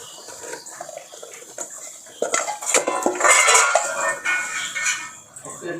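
Chopped jackfruit goes into a cooking pot with clattering of pot and utensils and some scraping and rustling, close and moderately loud, and a voice faintly in the background.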